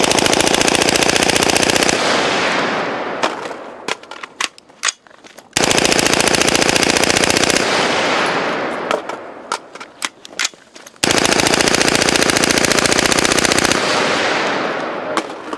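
An LMT rifle fires three long, continuous automatic bursts at close range, each loud roar of rapid shots cutting off abruptly, with brief gaps between bursts while the barrel heats up.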